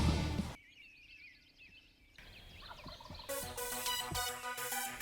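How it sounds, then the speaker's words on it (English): Wild turkey toms gobble hard and loud, several rattling calls bursting out close by in quick succession. "very loud, hard-gobbling toms"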